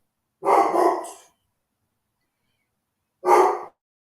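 A dog barks in a quick cluster of three or four sharp, fairly close barks, falls silent, then gives one more short bark about two seconds later.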